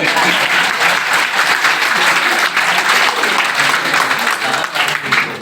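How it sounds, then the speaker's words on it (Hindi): Loud, sustained clapping from an audience at a Hindi news event, dense and even from start to finish with no speech over it. "खुश हो लीजिए ज़रा, ताली बजाइए।"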